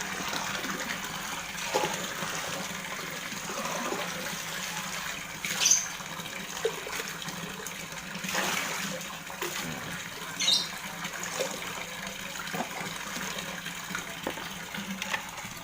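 Yellow medicine water pours steadily into a koi pond as a continuous watery splash and trickle, with a few louder gushes along the way and no speech.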